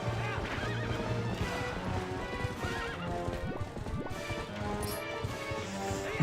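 A horse in Zelda: Twilight Princess HD neighs and whinnies repeatedly over rapid galloping hoofbeats, with crashes and game music layered throughout.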